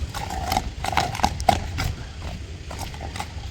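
A tall horse walks with a series of close, clear hooves clip-clopping in an uneven rhythm, with low background rumble and no talk.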